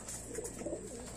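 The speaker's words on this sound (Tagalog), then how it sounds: "Ayan na yung mga ibon natin." Pet pigeons coo softly nearby, a few low rolling murmurs in quick succession over a quiet background hum, with no talking.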